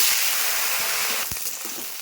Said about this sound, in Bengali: গরম হয়ে গেছে, এখন ঢেঁড়সগুলো দিয়ে দিচ্ছি।